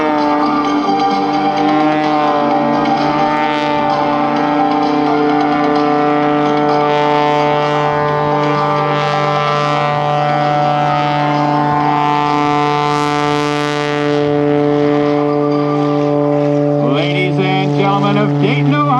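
Sean Tucker's Oracle Challenger aerobatic biplane hanging in a hover at the Dayton airshow, a loud sustained engine drone with a steady humming pitch and faint swell, heard from a distance with wind noise.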